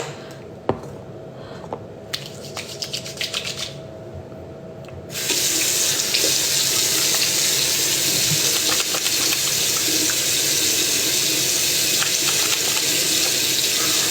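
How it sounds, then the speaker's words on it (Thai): Running tap water splashing into a sink as a face is washed, starting with a few scattered splashes, then a loud continuous rush of water that holds steady to the end. "ล้างอีกรอบเพราะว่ากดสิว"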